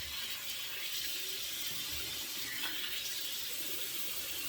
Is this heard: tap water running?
yes